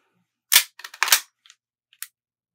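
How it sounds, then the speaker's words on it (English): A WE F226 airsoft pistol fires sharp, close snapping shots, one loud crack followed by a quick cluster of pops and a final crisp shot, with small clicks between them in otherwise silent surroundings. "Now, I'm gonna shoot a couple bullets."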